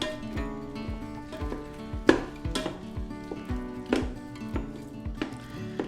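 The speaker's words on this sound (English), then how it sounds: "put in the sausage and then take whatever type of kitchen tool you have and just start to break it up a little bit" Sausage being broken up with a kitchen tool as it cooks in oil in a heated pressure cooker pot for tortellini soup, giving repeated scraping and knocking strokes over a steady low sizzle, close and moderately loud, no talking.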